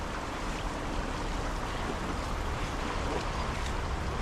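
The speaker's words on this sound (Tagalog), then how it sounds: "Baka tangayin tayo ng agos. Malakas ang agos." Strong river current rushing past, a dense, steady broadband wash of flowing water that stays constant from start to finish with no voices.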